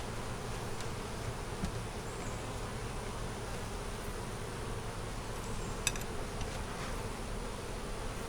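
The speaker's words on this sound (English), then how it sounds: "we see how those bees are walking around there" Honey bees hum steadily from an opened eight-frame double deep hive, a dense continuous buzz with no breaks and one faint click partway through.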